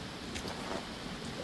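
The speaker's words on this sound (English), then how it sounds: "I like the rain, actually, it's cool." Steady rain falls in the zombie video game Dying Light: The Following, a dense, even hiss of drops with no speech, faint and constant across a brief moment.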